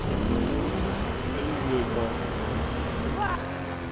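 A Harasser vehicle with speed chassis and turbo booster races along in Planetside 2, its engine a steady loud drone with a rising pitch near the end, under someone talking.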